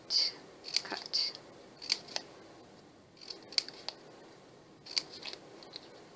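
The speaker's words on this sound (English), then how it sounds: "what you do next is you start slicing into it. You just cut, cut, cut, cut, cut, cut." Crisp snips of scissors cutting scrap paper into a feather shape, several quick close-up cuts in small irregular clusters with short pauses between, quiet and clear.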